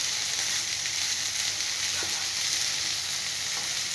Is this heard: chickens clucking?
no